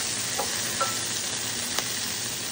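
Broccoli hits a browned spice paste in a hot pan and sets off a continuous soft sizzle, with a few faint taps of stirring along the way.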